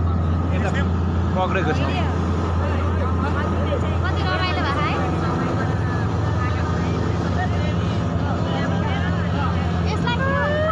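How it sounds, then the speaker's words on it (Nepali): A jet speed boat races along the Saptakoshi river, its steady engine roar and rushing water continuous and loud throughout, with people chatting and exclaiming over it. "पानी जहाज यो जेट बोट स्पिड बोट कस्तो रमाइलो।"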